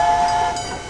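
A train sound effect plays loudly and alone, with a bright steady whistle tone over a rushing rail rumble for under a second.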